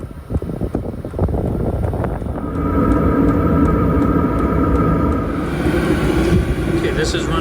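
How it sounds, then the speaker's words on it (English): A diesel heater runs with a low, rumbling exhaust drone and a steady ticking fuel pump, while a voice talks over the noise at the start. "You can hear the pump, you know, constantly ticking away inside."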